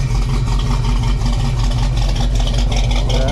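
A car engine idles right after its wheels were repaired, giving a loud, steady, lumpy rumble close by with no voices.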